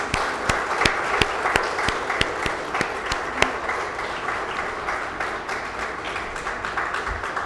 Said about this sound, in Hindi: मैं चाहता हूँ कि एक बार उनके लिए आप सभी ज़ोरदार ताली बजा दीजिए।